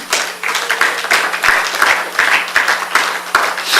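A church congregation applauds in praise, with steady, dense clapping from many hands in a reverberant room and light voices underneath.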